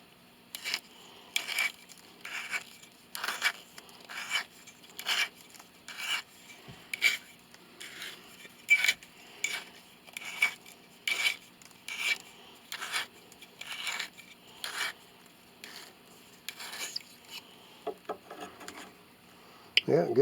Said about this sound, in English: once we get all the way up to the collar on this one, then we will ream that out to fit